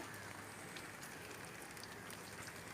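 Rain falls on a rooftop garden of leafy red greens in a steady, even patter of drops, soft and continuous with no break.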